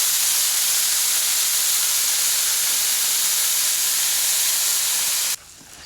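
A big batch of Costco bacon sizzles on a Blackstone griddle outdoors, giving a loud, steady, dense hiss with no voices, until it abruptly drops to a quieter hiss just before the end.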